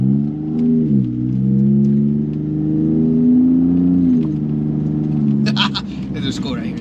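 A 2020 Ford Raptor pickup with a custom exhaust revs up and holds a loud, deep rumbling drone close by, the pitch stepping up and down, with a voice talking over it and some clatter near the end.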